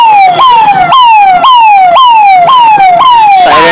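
An emergency vehicle siren wails right up close near a railway station, a very loud, fast repeating rise-and-drop pattern of about seven cycles with no gaps.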